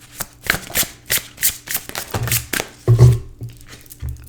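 Oracle cards from a Celtic Spirit Oracle deck being shuffled by hand in a tarot reading, with a rapid series of crisp riffling and sliding bursts, close and clear, with no talking.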